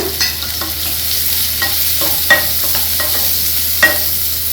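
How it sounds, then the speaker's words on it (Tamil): Two large, finely chopped onions sauté in a pan, with a steady close sizzle broken by repeated scraping strokes from a stirring spoon. "வெங்காயம் நல்லா வதக்கிக்கோங்க"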